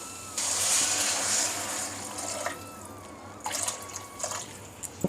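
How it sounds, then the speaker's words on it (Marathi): Water is poured into roasted masala in a cooking pan for a pavta rassa bhaji, giving a sustained splashing pour followed by a few shorter splashes and sizzles. "यामध्ये आता पाणी वतून घ्यायचं."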